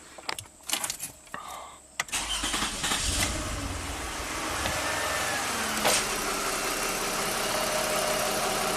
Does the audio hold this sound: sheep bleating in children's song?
no